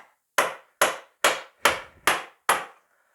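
Six sharp, evenly spaced metal-on-metal strikes as a hammer drives a steel chisel to break nails in a wooden pallet, each blow loud and close with a quick decay, no talking.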